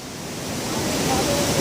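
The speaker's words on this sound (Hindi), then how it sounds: "मैं बहुत ही करीब हूँ झरने करीब" The Bhatinda waterfall on the Katri river near Dhanbad, Jharkhand, gives a steady, close, broadband rushing roar of falling water that grows slightly louder over the short clip.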